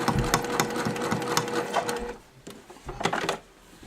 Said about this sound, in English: I'm going to go ahead and start sewing. This is at a stitch length 4.